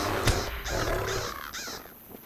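A crow caws several times in quick succession in the Lord of the Rings Online video game, harsh and fairly close, with nothing else over it.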